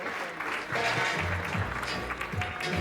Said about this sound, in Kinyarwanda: Amashyi menshi cyane kuri Caridinale.